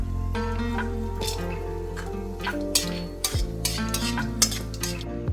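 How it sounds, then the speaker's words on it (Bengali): Raisins and whole spices fry in a pan for prawn pulao, with a soft sizzle under repeated scraping and clinking of a metal spoon stirring against the pan. "এই কিশমিশটা সুন্দর দেখো ভাজা হলো এক সেকেন্ড হলেই কিন্তু এটা পুড়ে যাবে ফোড়ন দিয়ে দিলাম"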